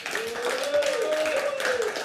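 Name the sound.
applause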